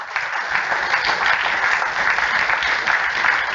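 A church congregation claps during a Christmas sermon, a thick, even roar of many hands sustained throughout at moderate loudness.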